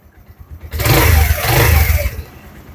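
Suzuki GSX-R 125 motorcycle engine revs hard and close for nearly two seconds after a quiet start, holding a loud, rough roar with slight rises and dips before easing off.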